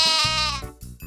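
A single sheep gives a loud, close, wavering bleat lasting about a second, alone with no talking over it.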